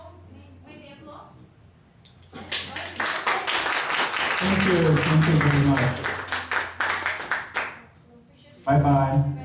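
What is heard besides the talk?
audience applause after a conference lecture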